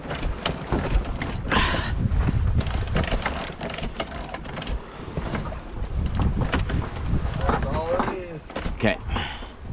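On a sailboat at sea, a jib is let out while pulleys and a winch ratchet click and creak in bursts, with wind rushing and water noise beneath and people talking throughout.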